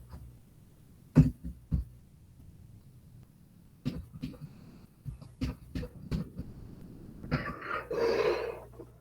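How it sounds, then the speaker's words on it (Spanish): A person coughs several times in short, sharp bursts, close and fairly quiet, with silent gaps between coughs and a longer rough exhalation near the end. "Perdón, un poquito de tos tengo."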